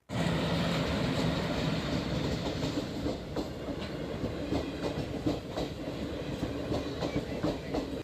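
A train rolls past a railway level crossing gate, a loud continuous rumble with rhythmic wheel clatter over the rails that keeps going for several seconds.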